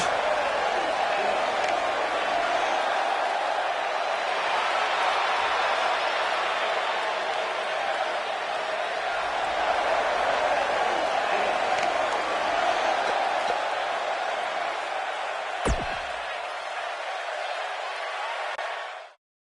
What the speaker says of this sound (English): The crowd here tonight certainly seemed to appreciate the efforts.